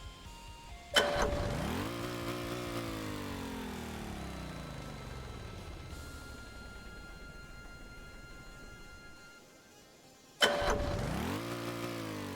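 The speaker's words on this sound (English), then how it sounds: "Wait till it revs a bit so it's got some RPM." Model train engine starting with a sharp kick, then a revving tone that slowly winds down over several seconds before a second start and rev, fairly faint and with no talk.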